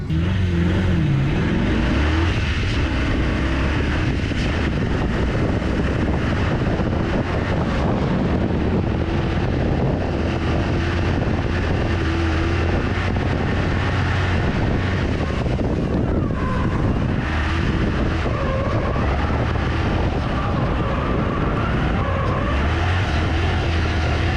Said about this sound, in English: I'm just doing a few laps to make sure the car's good to go.